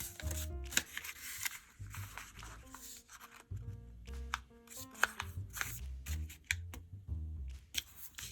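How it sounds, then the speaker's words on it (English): A paper dollar bill is folded and creased by hand for an origami duck, giving close crisp rustles, taps and sharp creasing swipes in an irregular rhythm with no talking. "Now we'll valley fold in half lengthwise, so we'll just bring this top edge down to the bottom edge."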